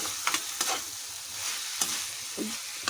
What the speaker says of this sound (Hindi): तो इसको हम जो है वो अच्छी तरह से भून लेंगे